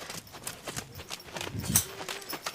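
Horse hooves clip-clopping at a ranch, a steady series of soft, close footfalls on ground as the animal walks, with light background noise and no clear talk.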